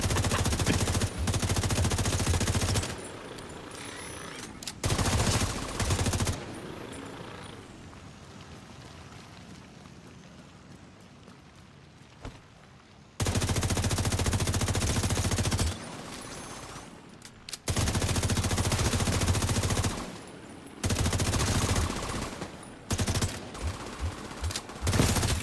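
Loud bursts of automatic gunfire in a shooting video game, sustained volleys separated by quieter gaps with a faint background hum, then a run of short choppy shots at the end.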